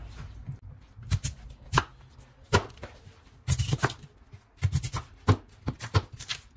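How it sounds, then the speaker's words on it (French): A knife slices a yam into rounds on a board, giving sharp, close cutting knocks in irregular clusters, some single and some in quick double or triple bursts. "Je vais couper ça en rondelles."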